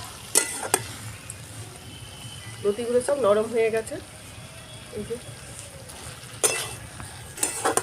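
Taro stolons and prawns fry in a pan while being stirred, producing a low sizzle with a few sharp clinks of a utensil against the pan, mostly under a person talking.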